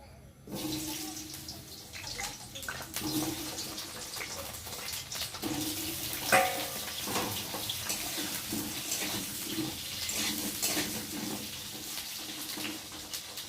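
Small cut potatoes dropped into hot oil, a sudden burst of loud, dense sizzling that settles into a steady, close crackling hiss for the rest of the clip.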